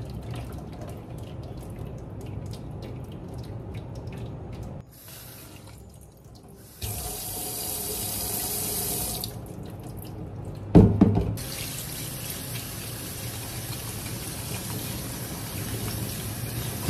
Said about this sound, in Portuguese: Tem que jogar bastante água para sair toda essa goma.